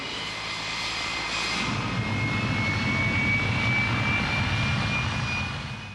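A Vietnam-era F-105 fighter bomber's jet engine roars loud and steady, swelling slightly midway and holding a sustained whine before easing off at the end, with no voices.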